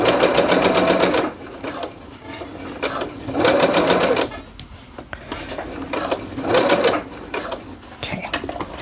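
A sewing machine stitching a seam on a pair of joggers, three loud close bursts of fast, steady stitching separated by pauses filled with fabric rustling and handling.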